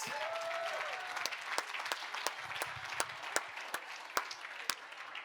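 Sustained applause from a room of guests at a fundraising gala and live auction, honoring donors; steady clapping throughout with a few sharper individual claps standing out near the end.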